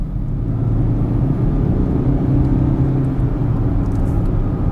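A 2-litre 180 PS Range Rover Velar accelerates up a slip road, its engine a steady low rumble heard from inside the cabin, with no talk over it.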